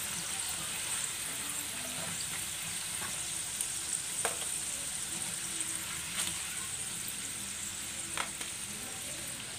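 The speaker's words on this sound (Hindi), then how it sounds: "अच्छी तरह से हम सारे आलूओं को फ्राई कर लेंगे।" Potatoes frying in hot oil give a steady, even sizzle throughout, with a few faint clicks of a utensil now and then and no voices.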